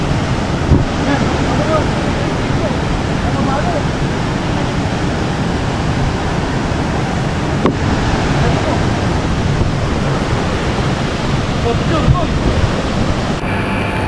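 Bukal Falls in Majayjay, Laguna, with a strong current, roars as a constant, dense wash of rushing water that fills the whole stretch without a break.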